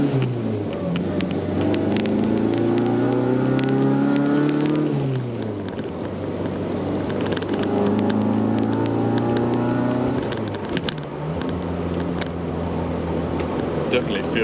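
Car fitted with a Weber 40 DCOE carburettor driven on the road, engine note climbing repeatedly through the gears as it accelerates, with steady rumbling and gear changes, loud and close throughout.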